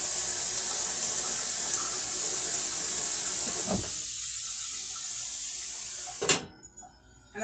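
Tap water runs steadily over a pan lid in a kitchen sink with a constant hiss and splash, and a brief clatter comes as the lid moves before the flow cuts off near the end.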